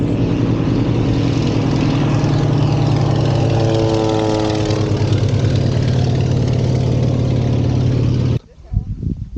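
A loud An-2 biplane engine drones steadily at full power during takeoff, its pitch shifting slightly, before the roar suddenly drops away near the end.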